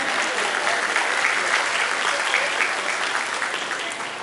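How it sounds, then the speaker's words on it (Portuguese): Steady applause from a large audience at a law congress, dense and sustained clapping that fills the whole stretch and tapers slightly toward the end. "Recebe uma salva de palmas de todo o público presente."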